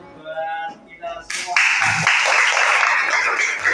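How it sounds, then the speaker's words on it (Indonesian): A class applauds classmates after a tree-making project, brief talk giving way to loud, dense clapping from a group of students that continues to the end. "Sekali lagi tepuk tangan buat teman kita semuanya"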